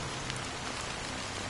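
Steady rain falling in the Honkai: Star Rail video game, a soft, continuous hiss of drops spread evenly across the whole moment with no voices.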